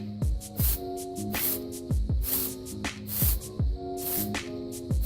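A spray can of Plasti Dip works over a Jeep Grand Cherokee grille in quick, rhythmic bursts, each a short hiss or rattle, repeating close up and fairly faint with no voices.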